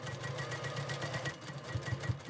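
A sewing machine runs steadily while stitching a Broken Dishes quilt block, a fast even mechanical whir with a few louder stitch thumps near the end, close and alone.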